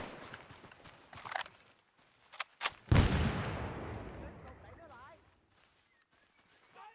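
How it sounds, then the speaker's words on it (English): A grenade detonates in the World War II shooter Big Red One, one loud close boom with a rumbling tail that fades over about two seconds, preceded by scattered shots and footsteps, with soldiers' voices shouting around it. "Grenade out."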